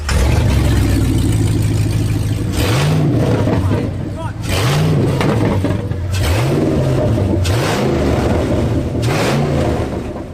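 A Batmobile engine revs hard in a series of loud, close throttle blips that rise and fall over a steady roar.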